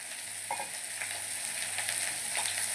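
Ridge gourd slices frying in hot oil in a pan, a steady close sizzle with a few soft scraping stirs mixed in, no voices.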